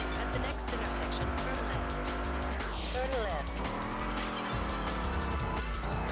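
Tires squeal as a car spins out through a corner in the PS2 racing game Test Drive Unlimited, the screech rising over a steady engine roar and game music while a voice talks over it.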